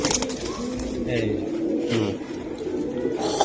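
Pigeons at a market stall coo in low repeated rolls, close and steady, while someone speaks over them.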